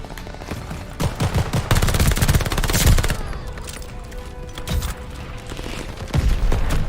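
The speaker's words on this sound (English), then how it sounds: "Allied mortar fire inbound." Call of Duty battle with dense gunfire and mortar fire, sustained crackling volleys and heavy bursts, loud and continuous, with no speech over it.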